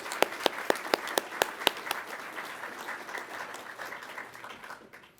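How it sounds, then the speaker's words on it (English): An audience at a pilot training graduation breaks into applause, a few sharp individual claps up front swelling into steady clapping that fades out toward the end. "So a round of applause for our maintainers and our contractors."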